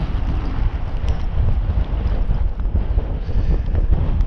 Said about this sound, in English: But it's very windy up here.